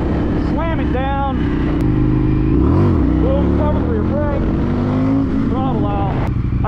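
An Indian FTR 1200 motorcycle engine rises and falls in repeated throttle blips and revs for a wheelie, loud and close under steady wind rush, while a rider talks over it.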